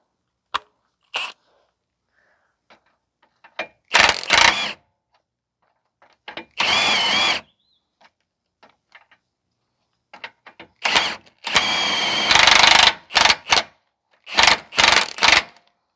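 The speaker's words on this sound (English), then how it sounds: "So we are going to tighten up the lower ball joint now." Power tool bursts tightening the lower ball joint on a 2010 Subaru Outback 3.6 during a front CV axle replacement, several short whirring runs with clicks and pauses between, fairly close, no talk.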